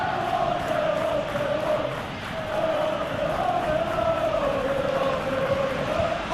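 A stadium crowd roars and cheers in a PES football video game match between Wolverhampton Wanderers and Liverpool in the FA Cup. The steady, full crowd noise swells and dips slightly, with a faint voice underneath.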